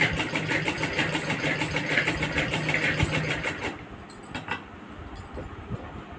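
A sewing machine stitches a denim mobile cover with a rapid, even mechanical whirr up close, then stops, leaving a few faint clicks and handling sounds.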